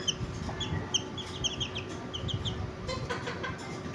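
Young chicks from an Asil gamefowl cross peep in quick, high, repeated chirps, close by and moderately loud over a soft background murmur, with no speech.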